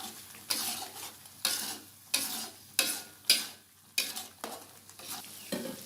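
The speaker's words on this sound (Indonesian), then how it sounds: "Aduk-aduk sampai bumbu mengental dan minyaknya keluar." Bangladeshi spice paste frying in oil is stirred in repeated strokes, each a loud close scrape and sizzle swell that fades before the next, about eight in a steady rhythm.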